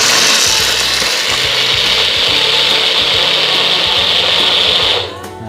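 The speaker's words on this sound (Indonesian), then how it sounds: "ini gampang seperti blender pada umumnya, ada penguncinya di sini, ada tandanya" A Cosmos Blenz blender runs on its high setting with a steady, loud, whirring roar. It holds even for about five seconds and then cuts off abruptly.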